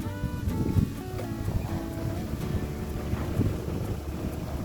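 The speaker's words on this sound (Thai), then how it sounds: "ตรงนี้ลมเย็นดี" Steady wind blowing across a large open plot of rural land in Chainat, Thailand, near a road with mountain views, a continuous low rushing roar buffeting the microphone throughout with no one speaking.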